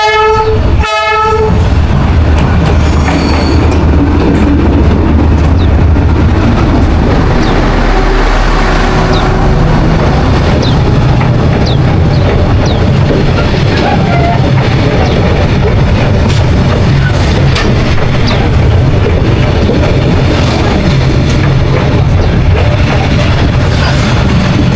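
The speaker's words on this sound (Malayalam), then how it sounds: "നമ്മുടെ ട്രെയിൻ വന്നുകൊണ്ടിരിക്കുന്നത് ഇതാണ് കേട്ടോ, വളരെ പ്രസിദ്ധമായിട്ടുള്ള ട്രെയിൻ." A famous train passes close by, opening with a loud horn blast and then a sustained heavy rumble and rattling clatter of wagons that fills the whole stretch without talk.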